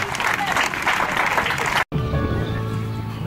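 A church congregation at a Sunday service applauds in acclaim of the Lord, a loud dense clatter of many hands for nearly two seconds. It breaks off abruptly, then a voice speaks over a softer background.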